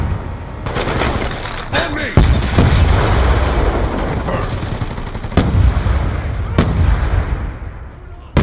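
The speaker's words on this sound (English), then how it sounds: "Hellstorm missile inbound." Hellstorm missile strikes in Call of Duty Black Ops II multiplayer, heavy booming explosions and sharp blasts amid constant gunfire and battle noise, with voices heard in the mix.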